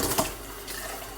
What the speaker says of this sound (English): I'm currently filling up Bria's bottle with water, which you cannot see